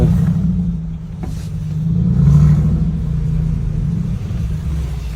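A Mercedes-Benz G-Class engine rumbling low and steady, swelling briefly as it revs and then settling back to a deep drone, close by, in Tashkent.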